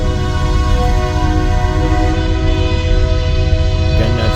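A Union Pacific eastbound train passes close by, its horn blaring loud and steady for several seconds over the low rumble of the locomotive and cars.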